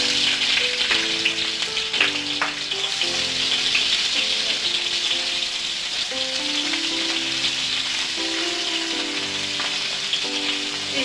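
Onions sizzle and crackle steadily in hot oil with mustard seeds, cumin and asafoetida, a continuous close frying hiss running throughout while soft music plays underneath.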